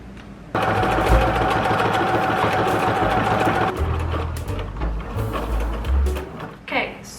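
A sewing machine stitches a strap for a tie-top shirt, running in a steady close mechanical whir for a few seconds before stopping, followed by quieter handling noises and a voice.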